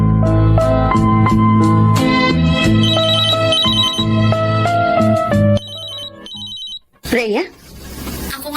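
A cellphone ringing with an incoming call, a loud repeating melodic ringtone in bright tonal bursts that fills most of the stretch before cutting off, followed by a short sweeping sound.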